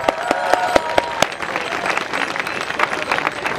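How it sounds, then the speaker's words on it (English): A crowd at a Pedal on Parliament cycling protest cheers and applauds, opening with several sharp claps before settling into a continuous wash of clapping and cheering. "come on, big cheer for the team"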